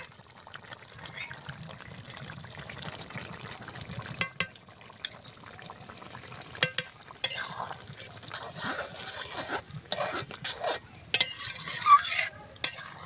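A village-style curry simmers in a pot as a ladle stirs it, with a soft bubbling and sizzling bed broken by sharp scrapes and clatters that grow busier toward the end; nobody speaks.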